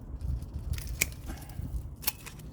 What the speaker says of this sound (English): Cut off this branch